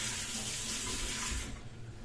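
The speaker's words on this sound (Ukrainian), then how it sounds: "наливаю з крана водою" A kitchen tap runs in a steady, close hiss of flowing water for about a second and a half, then the flow thins and softens as it is turned down.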